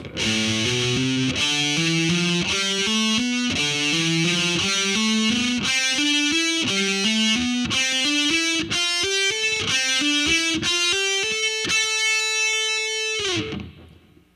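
Distorted electric guitar plays a slow heavy metal lick, steady picked notes climbing step by step, ending on a long held note that slides down and cuts off.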